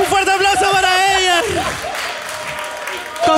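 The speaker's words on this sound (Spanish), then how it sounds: "Un fuerte aplauso para ella." Audience applause breaks out after a loud voice in the first second and a half, then continues as a steady wash of clapping in a room, with a voice cutting back in at the very end.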